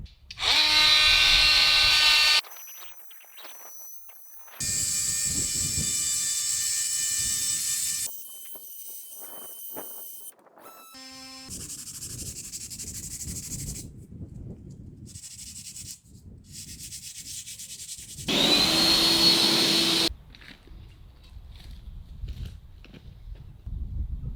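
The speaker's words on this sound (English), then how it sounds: "I'm gonna be fixing it with this blade in the multi-tool, and if it gets too serious" An oscillating multi-tool buzzes in loud bursts of several seconds each while cutting and sanding stone flooring, separated by quieter stretches of scraping and handling noise.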